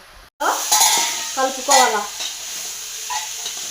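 Shredded cabbage stir-frying in a pan, stirred and scraped with a utensil, giving steady sizzling with a few louder scraping strokes, close up and with no talking.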